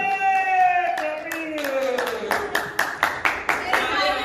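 Audience clapping for actress Sana Khan at her birthday celebration: a brisk, rhythmic run of hand claps that strengthens toward the end, mixed with a sustained voice or music.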